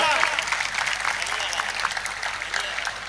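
An audience at a religious gathering in Jamnagar breaks into sustained, thick applause that holds steady for several seconds.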